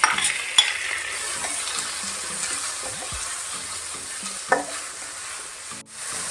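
Prawns sizzling in a hot pan with sautéed onion and tomato for a Goan prawn pulao, a steady frying hiss with occasional spatula scrapes and a few sharp clinks against the pan.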